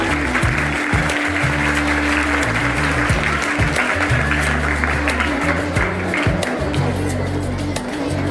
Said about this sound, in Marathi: सगळ्यांनी टाळ्या वाजवल्या